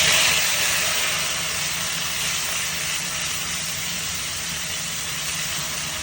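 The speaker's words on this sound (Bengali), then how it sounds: "এবার দেবো জিরে আর রাঁধুনি বাটা" Cumin and radhuni paste sizzle in hot oil in a Bengali puti fish curry, a steady loud broadband hiss that starts strongest and settles into an even crackling sizzle, close and alone.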